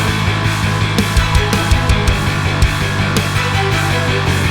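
Layered cinematic samples playing together with a bass line in a producer's track, a dense, loud and sustained mix with a rhythmic low-end pulse and regular accents, no voices.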